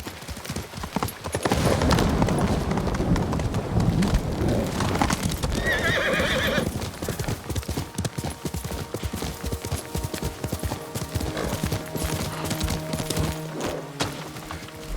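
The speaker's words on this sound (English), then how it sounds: "Horse!" A horse in the video game Ghost of Tsushima gallops with rapid, loud hoofbeats, then gives a sharp whinny partway through before the pounding hooves continue and gradually ease.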